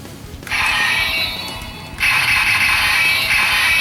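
A toy DX Jacker, the DX 1000 Jacker, runs its mechanism as the small plunger comes down, giving two bursts of whirring, ratcheting gear noise that start abruptly and fill the clip loudly with no talk.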